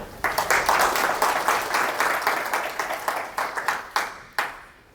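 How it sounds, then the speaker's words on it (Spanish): A crowd claps loudly, a dense burst of applause that thins into scattered claps and fades out. "por favor, un aplauso para Vera."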